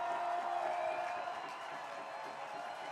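Baseball stadium crowd at Walker Stadium during a Portland Pickles versus Yakima Valley Pippins game, a steady broad roar of cheering and noise from many fans, sustained throughout without clear claps or pauses.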